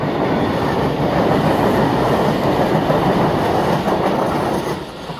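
V-set commuter train passing close by at Wondabyne in Sydney, a loud, steady roar of rail noise and rumbling wheels that holds throughout and begins to ease off only at the very end.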